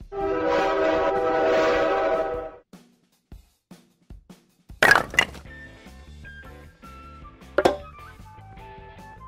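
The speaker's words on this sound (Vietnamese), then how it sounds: "Tàu hỏa." Cartoon train sounds from a children's vehicle puzzle game: a loud, sustained chord-like train horn opens, followed after a pause by clacking and chugging hits and bright chimes.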